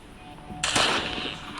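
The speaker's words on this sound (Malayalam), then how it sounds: "ഒരു വെടി തീർത്തുണ്ട്" A single sharp gunshot in the video game Granny bursts out abruptly and rings briefly, synthetic-sounding over a faint steady hum, with no talking.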